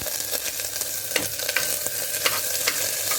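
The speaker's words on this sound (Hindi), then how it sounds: "देखिए ऑयल गरम हो गया तो अब हम सबसे पहले इसमें डाल रहे हैं गार्लिक" Chopped garlic hitting hot mustard oil in a pan while cooking Kashmiri haak greens, a bright steady sizzle punctuated by sharp scraping stirs and small pops, close and with no talking.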